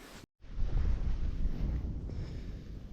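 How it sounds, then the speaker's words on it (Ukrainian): Strong gusts of wind buffet the microphone in a loud, continuous low rumble after a brief moment of silence at the start, outdoors while pike fishing. "Після того як вийшло сонечко і почав дуть вітер."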